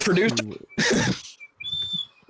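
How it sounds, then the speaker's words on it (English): A thin, high whistle sounds in short steady bursts between excited voices talking over it. "What is that whistle?"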